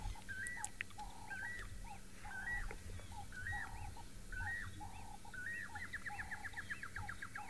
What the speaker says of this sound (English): You might hear a Llewellyn's cuckoo behind me now.